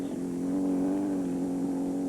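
Volkswagen two-seater race car in the 1973 Mint 400 desert rally in Las Vegas, its engine holding a steady loud drone at close range with a slight rise in pitch, no voices over it.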